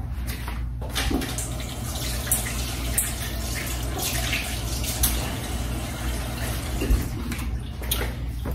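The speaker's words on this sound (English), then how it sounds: "let me give my hands a quick rinse" Running tap water splashes steadily as hands are rinsed in a home kitchen while fig preserves are being made; a continuous close hiss with small splashy variations and no talking.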